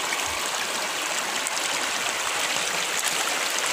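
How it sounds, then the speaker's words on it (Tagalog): River water rushing in a rural province setting, a constant broadband roar of flowing water, close and steady with no voices. "Umaragas ang tubig oh."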